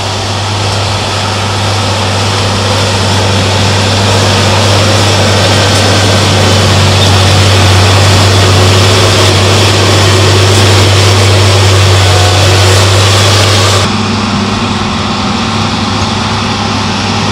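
A forwarder's heavy engine, mounted behind the cab, runs steadily with a low droning hum and broad mechanical noise, loud and constant throughout, with no voices.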